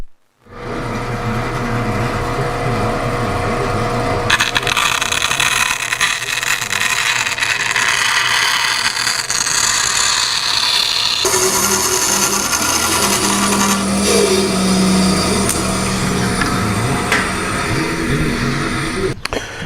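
Continuous loud power-tool cutting through wood for a drawer bottom, a steady buzzing whine with rasping texture that shifts in pitch as the cut progresses, no voices.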